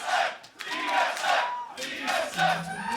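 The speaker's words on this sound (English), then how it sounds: "Crowd already getting involved, and they always are when it's C9 TSM" A large arena crowd at a 2019 LCS Summer League of Legends esports match between TSM and Cloud9 roars and chants in loud, swelling waves over a few seconds.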